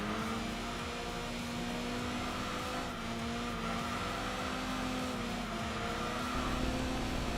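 Race car engine in the video game Enthusia Professional Racing, holding a steady high-rev whine toward an 8,500 RPM redline, loud and continuous with slight pitch shifts and no talk.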